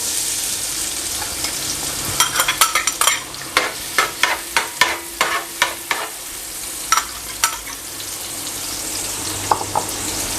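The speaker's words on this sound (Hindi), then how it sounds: "एक पतीले के अंदर मैंने तकरीबन आधा कप घी गरम कर लिया है। तो अभी इसमें शामिल करूँगा प्याज।" Three medium chopped onions fry in about half a cup of hot ghee in a pot, a steady sizzle broken by irregular scraping and stirring clacks of a utensil against the pot.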